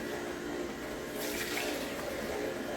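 Juice poured from a container during a juice fast: a steady, continuous liquid stream splashing and filling, fairly close and unbroken throughout, with no talking.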